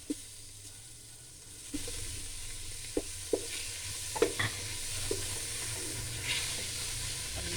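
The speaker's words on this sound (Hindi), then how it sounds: "इसको हम हल्का सा फ्राई कर लेंगे।" Chicken pieces coated in ginger-garlic paste frying in a pan: a soft, steady sizzle broken by several sharp spatula scrapes and stirs, close and fairly quiet, with no one talking.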